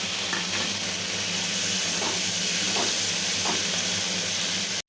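Boiled cauliflower and potatoes fry in a pan for a katla fish curry, a steady, even sizzle with faint stirring scrapes now and then.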